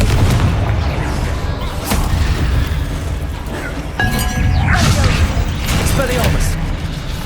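Confringo blasting-spell explosions in Hogwarts Legacy combat, booming impacts with crackling debris at about two, four and five seconds over continuous battle noise, with a voice shouting spell names.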